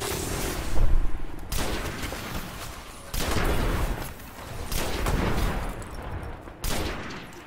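A fusion rifle in the game Destiny fires several loud, dense bursts of gunfire, each lasting about a second, separated by short pauses.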